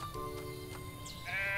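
Sheep bleat in the farming video game Everdream Valley, with several short wavering bleats in a row over a soft game background. The last bleat is louder and higher.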